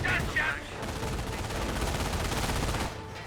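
Bursts of rapid small-arms and machine-gun fire from garrisoned infantry in Company of Heroes, a World War II strategy game, crackling continuously and loudly with a brief sharper burst near the start.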